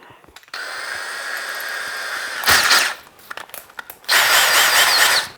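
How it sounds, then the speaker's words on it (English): A power drill fitted with a 5/16 bit, used to drill into concrete, brick or cinderblock, whirs in two loud, close bursts, the second longer, with quiet handling noise between. "I need 5/16 drill bit."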